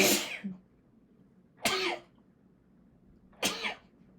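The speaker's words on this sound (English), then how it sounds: "I've been sneezing today" Three sharp explosive bursts from a person, sneezes or coughs, spaced about two seconds apart, close and fairly loud against a quiet room with no speech.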